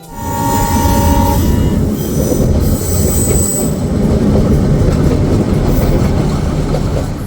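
A train rumbles loudly and continuously along the rails between Ooty and Coonoor, with steady clatter and a brief high wheel squeal near the start.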